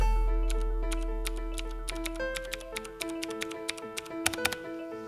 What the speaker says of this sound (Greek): Η Cherry MX Blue τεχνολογία, σε αντίθεση με τις Brown και Black, χαρίζει έναν έντονο κλικ θόρυβο κατά την πληκτρολόγηση.